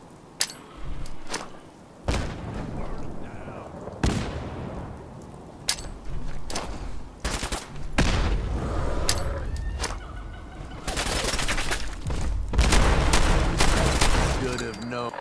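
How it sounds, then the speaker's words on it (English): Grenade blasts and gunfire in a Fallout 4 Nuka-World firefight, a string of sharp, loud bangs and booms with rumbling tails, some in quick clusters and some spaced apart. "Let's chuck grenades that way."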